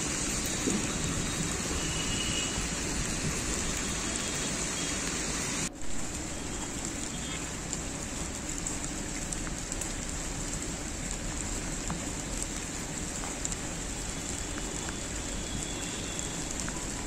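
Steady rain falling in Shivamogga on an overcast day sounds as an even, dense hiss of drops throughout, close and constant, with a brief break partway through and no voices.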